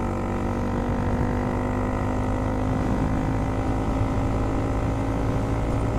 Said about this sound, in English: So I'm going to open up the throttle now.